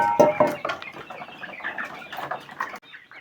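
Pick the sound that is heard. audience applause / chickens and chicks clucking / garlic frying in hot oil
chickens and chicks clucking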